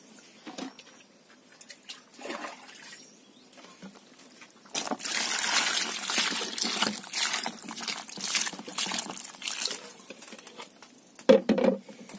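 Sikwa rinsed under running water, a quiet trickle and patter with scattered splashes early, then a louder steady stream of water over the vegetable from about five seconds on, with a sharper splash near the end.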